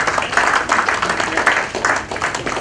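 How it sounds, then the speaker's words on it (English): An audience at a diamond jubilee foundation day celebration applauds steadily, a dense wash of many hands clapping at close range that carries through the whole stretch. "request you to please join again a big round of applause for her"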